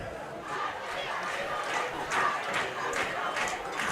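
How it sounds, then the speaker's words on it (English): A football crowd at DuQuoin whoops and hollers as the Indians win, a loose swell of distant cheering and shouts that rises and falls in bursts. "crowd whoops and hollers here at DuQuoin as the Indians have prevailed"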